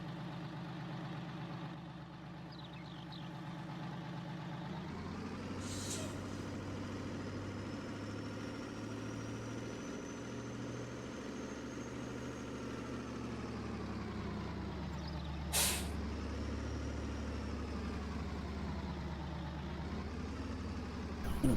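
Heavy truck engine idling and revving in Farming Simulator 19, a steady low drone that rises in pitch, with two sharp bursts of air-brake hiss partway through and near the end.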